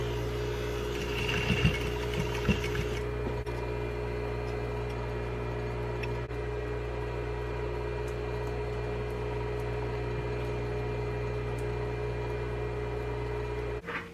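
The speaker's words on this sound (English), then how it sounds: "Now we will pivot the mask and sew back and forth on it so that it will stay anchored down." A sewing machine runs in a steady continuous hum while stitching back and forth across a T-shirt fabric mask, with a few faint clicks near the start.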